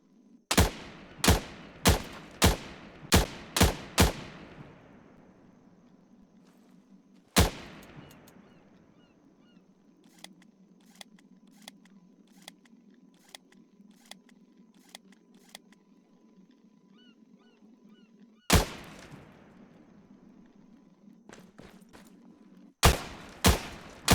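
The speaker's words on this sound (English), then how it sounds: "This gun fires 12 gauge buckshot, and you get 8 rounds per ammunition stack you pick up" Twelve-gauge buckshot shotgun fired in Arma 3: sharp, loud blasts in a quick run of about seven, then a single shot, a long pause with faint mechanical clicks over a low hum, and two more booming reports.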